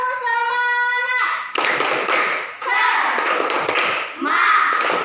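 A classroom of children at an Islamic institute in Lhokseumawe chants together in unison, then breaks into loud, close rhythmic group clapping with thumping beats for the tepuk semangat cheer.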